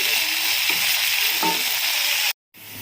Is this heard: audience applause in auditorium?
no